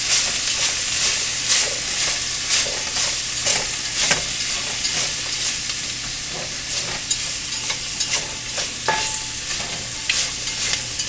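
Minestrone soup with potatoes and olive oil being stirred in a pot, a steady run of scraping, clinking spoon strokes over a continuous sizzle, close and fairly loud with no talk.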